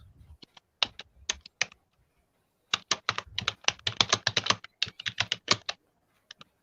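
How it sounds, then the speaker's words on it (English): Rapid typing on a computer keyboard, bursts of crisp close key clicks separated by short pauses, alone with no talk. "you're typing a whole essay over there"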